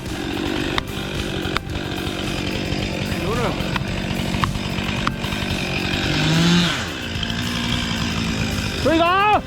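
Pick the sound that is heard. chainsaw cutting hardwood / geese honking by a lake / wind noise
chainsaw cutting hardwood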